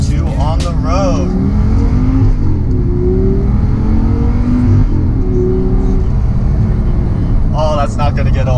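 Audi R8 engine roaring loudly and steadily at close range, its revs climbing and holding in a sustained growl, with brief higher-pitched blips near the start and end.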